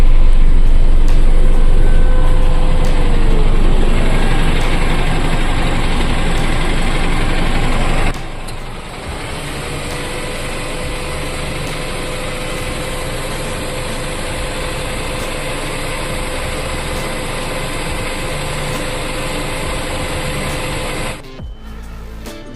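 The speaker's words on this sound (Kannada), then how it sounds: "ಹೊರಗಡೆ ಇಂಜಿನಲ್ಲಿ ಯಾವ ಥರ ಸೌಂಡ್ ಬರುತ್ತೆ ಕೇಳೋಣ ಬನ್ನಿ" An Eicher Pro 3019 truck with an air-conditioned cabin idles loudly and steadily close by, its low engine drone dropping slightly in level partway through and continuing evenly, with no voices.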